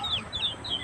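Chickens cluck softly, with a few short high calls over a low murmur of background noise in a brief, faint snippet.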